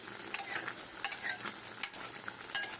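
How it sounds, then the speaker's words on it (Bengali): Hot oil sprinkled over pitha frying in a pan, a close, continuous sizzle broken by sharp splashing crackles and pops as the oil lands, with no voices. "তেলটা একটু ছিটিয়ে দিতে হবে।"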